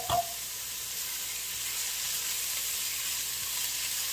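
Chicken wild rice soup simmers in a pot with a soft, steady hiss and sizzle, faint and continuous after a brief clink at the start.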